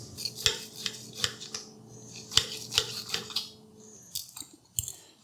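A knife slicing through a rested ribeye steak on a board, with repeated short scraping and clinking strokes of metal against the surface, close and fairly quiet, coming in uneven bursts.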